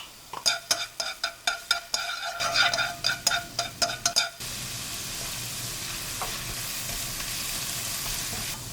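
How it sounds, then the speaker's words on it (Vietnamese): Minced garlic and shallots sizzle in a tablespoon of oil in a pan, first with a run of rhythmic scraping stir strokes over the frying, then a steady close hiss of sizzling alone. "Cho vào chảo 1 muỗng canh dầu. Và mình cho 1 muỗng canh hành tỏi xay, phi thơm và nó hơi vàng lại."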